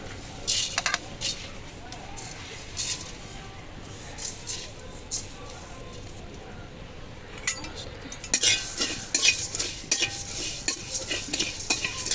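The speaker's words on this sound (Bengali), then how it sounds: "এখন এই মশলাগুলো ভেজে নেব" Whole spices and dried chillies sizzle in a hot wok for a sour-spicy raw mango pickle, with repeated scraping and clinking stirs that grow busier toward the end.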